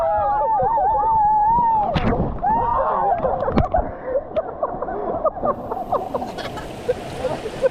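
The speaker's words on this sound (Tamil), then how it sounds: "தண்ணி அடிச்சு விட்டாங்க. தண்ணி அடிச்சு விட்டுட்டு இருக்காங்க." River rafting in Krabi with water splashed between boats: loud close splashes and bursts of spray, mixed with excited shouting and voices that give way to scattered smaller splashes and chatter.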